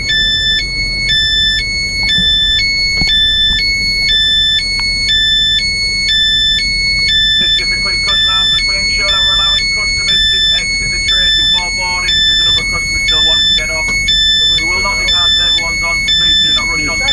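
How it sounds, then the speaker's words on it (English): A loud train emergency alarm rings continuously in a fast repeating high-pitched pattern, with voices talking faintly underneath. "I had to pull the emergency alarm"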